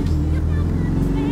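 Porsche 718 Boxster S with a 2.5-litre flat-four of 350 hp, without the optional sport exhaust, droning steadily with a deep low rumble throughout, close and fairly loud with no clear speech.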